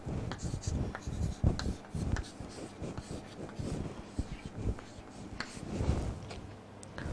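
Chalk or marker scratches across a board in irregular bursts and strokes while numbers from 0 to 9 are written out, with steady close scribbling and occasional taps.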